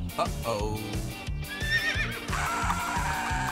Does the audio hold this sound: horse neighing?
yes